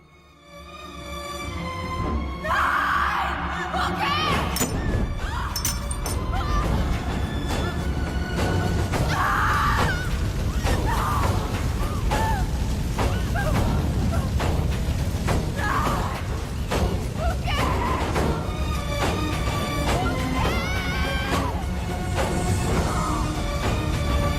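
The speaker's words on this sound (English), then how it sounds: "The next scene that you will see is the burning fire scene." A burning house fire scene from a film: a loud, dense blend of thuds, crashes and screams over continuous roaring noise, with dramatic music tones, lasting throughout.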